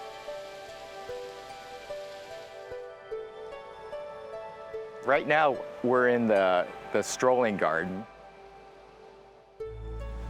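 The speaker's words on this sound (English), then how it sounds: "You're hearing the water." Steady trickling and splashing of flowing water in a Japanese strolling garden, a soft continuous wash close by, with a person speaking over it partway through.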